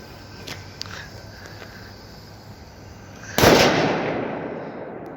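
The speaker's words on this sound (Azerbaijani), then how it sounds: "Zenga da yaxşı partladı dostlar." A Zenga firecracker goes off on New Year's Eve with a single sharp, loud bang that decays into a crackling tail, preceded by faint distant pops.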